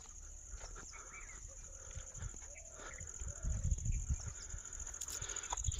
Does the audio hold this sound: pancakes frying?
no